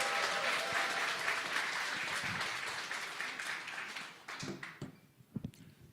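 A church forum audience claps to welcome a pastor, a loud sustained burst of applause that thins out into scattered separate claps at the end.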